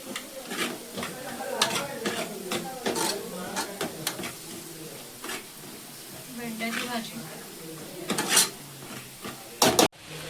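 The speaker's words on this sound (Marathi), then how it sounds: "मस्त मी अशी भाजी परतून घेते." Vegetables sautéed in oil after an onion and chili tempering, with a steady sizzle broken by scraping stirs and clinks of a utensil against the pan, while a person talks over the cooking.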